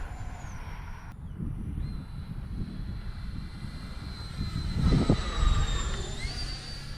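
FMS Futura 80mm RC jet passing overhead with its afterburner effect, a steady whining turbine-like roar that swells louder near the middle before easing off.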